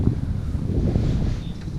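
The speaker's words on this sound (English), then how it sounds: "It is windy, super freaking windy." Strong wind buffets the microphone with a constant rough roar, gusting unevenly throughout, at the Cosumnes River Preserve.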